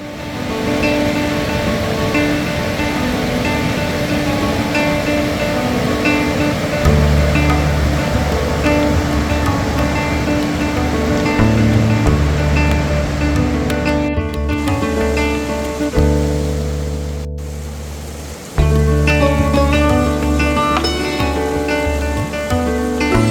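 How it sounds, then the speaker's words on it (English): A river rushes loudly and constantly in the Nubra Valley of the Himalayas, clear meltwater coming down off the mountains, with a steady roar of water and some tonal hum beneath it, no speech. "But we're down by a river here."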